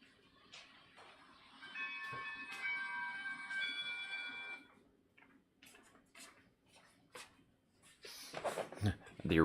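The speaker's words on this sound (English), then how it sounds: "I gotta go shut off that alarm." An electronic alarm in a room sounds as a steady series of high beeping tones for a few seconds. Ticks and handling noises follow, and a person talks near the end.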